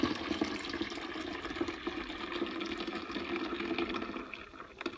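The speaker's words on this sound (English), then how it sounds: "Go back and finish this up after I drain this out." Water draining out of a container, a steady close rushing and gurgling flow that runs evenly throughout at moderate volume, with no talk.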